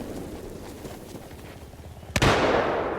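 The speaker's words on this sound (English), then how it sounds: "Can hear the gunfire." Steady rumbling background noise is broken by a single sharp, loud blast near the end that echoes and fades, a gunshot in Battlefield 4.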